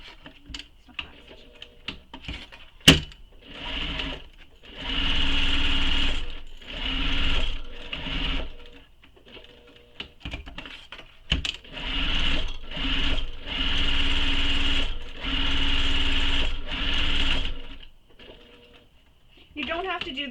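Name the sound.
sewing machine stitching a bag lining with back stitch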